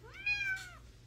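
A single short cat meow, clear and fairly faint, rising then falling in pitch over a quiet background.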